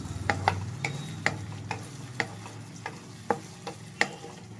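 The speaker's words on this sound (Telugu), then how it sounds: "బాగా వెల్ మిక్స్ చేసుకోండి" A spoon stirs a homemade pasta mixture in a pan, scraping and clinking in irregular close strokes over a low sizzle, with no talking.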